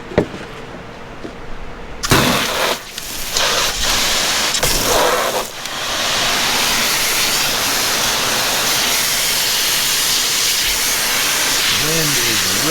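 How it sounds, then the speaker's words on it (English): Strong wind buffeting an outdoor microphone during a tie-dye t-shirt rinse, loud rushing roar that starts abruptly and stays steady, with bursts of gusty noise and some talk early on. "Wind is ripping today, folks. So sorry about any wind noise."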